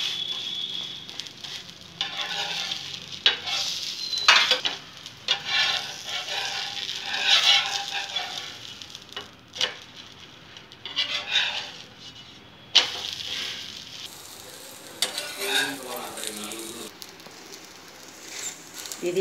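Semolina uttapam topped with vegetable pieces fries on a non-stick pan: a moderate crackling sizzle comes and goes under intermittent speech, with a few sharp clicks and handling noises.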